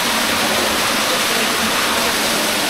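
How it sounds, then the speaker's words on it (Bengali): Heavy rain and running water just outside a cave make a dense, unbroken rushing hiss that stays loud and even throughout, with no other sounds. "বাইরে বৃষ্টি হয়, এই জন্য বোধহয় পানি বেশি।"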